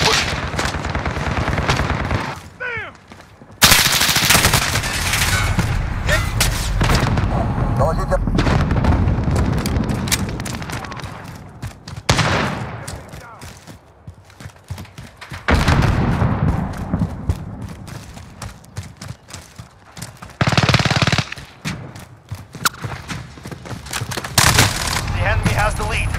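Gunfire and explosions from the video game Call of Duty Modern Warfare: loud, dense bursts of shooting and booming blasts, with brief lulls and voices heard among the firing.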